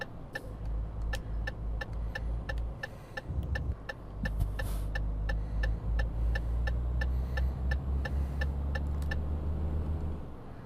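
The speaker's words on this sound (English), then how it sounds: "Now with all the torque that this truck has, it has no problem getting your load moving very easily." A Renault Premium truck engine in Euro Truck Simulator 2 pulls a load with a steady, deep low rumble. A regular, crisp ticking repeats throughout over the drone.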